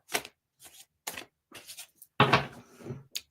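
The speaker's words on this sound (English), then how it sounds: "Talk amongst yourselves while I shuffle." A deck of tarot cards shuffled in a series of short, soft papery bursts with gaps of silence between them, one longer riffle near the end, close and quiet.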